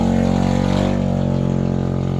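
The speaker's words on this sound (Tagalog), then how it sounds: "Gilangasan sa kas motor." A noisy motorcycle engine idles outside a house, a steady loud low rumble with a constant throbbing drone that holds at close range throughout.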